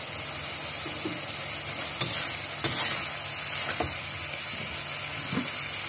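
Shrimp and onion stir-fry in a pan, a steady loud sizzle with several sharp scraping stirs of the utensil against the pan, close and without talk.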